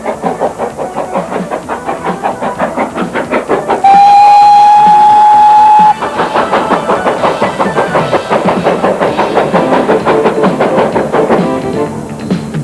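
Steam train on the Paignton-Dartmouth steam railway sounds one long, loud whistle lasting about two seconds over the steady, rhythmic chuffing of the engine, which carries on strongly before and after.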